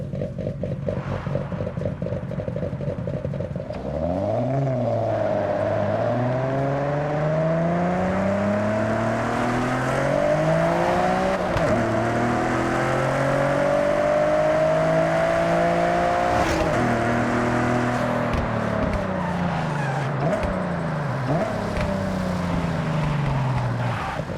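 A video game car engine in Forza Horizon revs up and down repeatedly, its pitch rising and dropping through gear shifts, loud and continuous with no talking.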